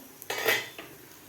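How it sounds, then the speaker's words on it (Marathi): A metal lid comes off a cooking pan of stuffed bhindi with one short clattering scrape and a brief ring, heard close with no voices. "तर आपण झाकण काढून बघूया"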